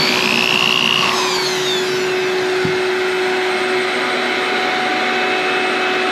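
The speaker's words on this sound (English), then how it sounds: "We're gonna drill that out and clean out any potential silicone." A power drill boring out a screw hole in boat gelcoat whines at high speed, steady and loud up close, with a brief shift in pitch early on as it bites into material.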